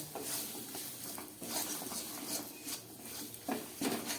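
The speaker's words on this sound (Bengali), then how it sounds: "গুড়টাকে খুব ভালো করে আমি একটু ভেজে নেব" Jaggery being roasted and stirred in a pan, a steady scraping and stirring over a soft sizzle, close and fairly continuous with a few sharper strokes.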